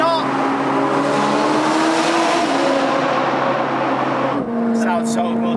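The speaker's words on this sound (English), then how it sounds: "It's just this car's so loud. It's like a moped." Loud supercar engine droning steadily from inside the cabin while driving, a harsh buzzy tone with a pitch that shifts slightly and drops near the end, and people talk over it.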